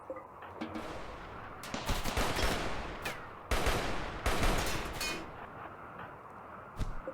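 Sustained RimWorld gunfire chews down a mini turret, dense overlapping volleys of loud cracks and rattling bursts rolling on almost without pause, surging in two heavier waves before a final sharp shot.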